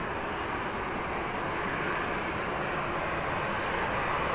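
An airliner at Birmingham Airport, a loud continuous broadband engine roar that stays steady throughout with no talking.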